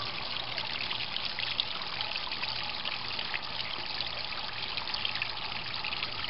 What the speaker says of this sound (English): that's the flow coming out the top. Coming down, multiple areas dropping.